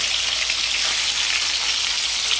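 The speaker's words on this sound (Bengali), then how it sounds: "এই চিকেনগুলোকে এখন একটু আস্তে আস্তে ভেজে নিতে হবে" Marinated chicken pieces frying slowly in a pan for a dhaba-style chicken roast give off a steady, dense sizzle and crackle. The sound is close and even throughout, with no voices.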